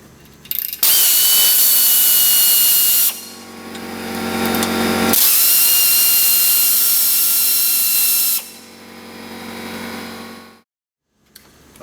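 A power tool with a number 7 Allen bit backs out plastic trim fasteners during hub, bearing and steering knuckle work on a VW Mk4, running in two long loud whirring bursts with a shorter quieter one after, no talk.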